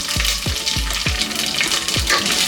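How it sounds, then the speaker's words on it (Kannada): Chana dal and urad dal frying in oil in a pan for a ridge gourd stir fry, a constant close hiss with five deep scraping stirs of a spoon scattered through, no voices. "ಎಲ್ಲ ಚೆನ್ನಾಗಿ ಫ್ರೈ ಆಗಬೇಕು"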